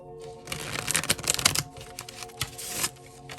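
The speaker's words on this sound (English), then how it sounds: "Let me shuffle again to make sure." Tarot cards being shuffled by hand, a dense run of riffling card flutters and soft slaps lasting a few seconds, close and fairly quiet with no talking.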